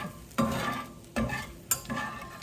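Onion, garlic and broth simmering in a pan with a soft bubbling sizzle, broken by four firm stirring strokes that scrape the pan at a steady rhythm, close by and with no talking.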